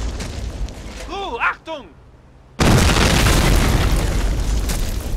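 A shouted voice calls out over battlefield noise, then a Panzerschreck rocket launcher in the Company of Heroes Blitzkrieg mod fires with a sudden, loud boom that rolls into a sustained, roaring blast.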